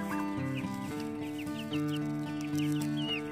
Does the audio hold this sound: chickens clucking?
yes